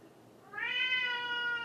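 Mia, an elderly cat who has seizures, lets out a single loud, drawn-out meow close by, rising and then holding steady.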